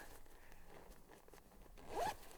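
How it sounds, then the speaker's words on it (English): A zipper on a rain poncho is zipped up in one quiet, close pull that ends with a brief, sharper rasp near the end. "I can zip it back up"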